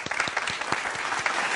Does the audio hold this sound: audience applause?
yes